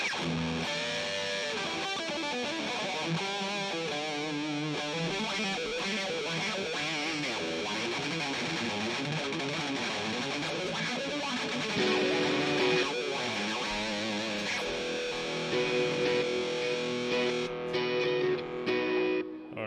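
Electric guitar played through an amp's distortion channel, a continuous dense, saturated tone with shifting melodic lines and sustained notes, loud and close, alone without talk.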